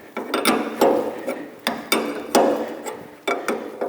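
Wrench tightening a fitting on the flow regulator of a MUSKOX 24-series snowblower: a series of sharp metallic clicks and ratcheting snaps at an irregular rhythm, close and moderately loud, with no talking.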